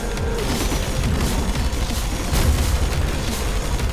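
Fireworks explode during an arena battle in the video game GRIP, giving a dense, continuous rumble of booms and bursts with heavy low-end energy throughout.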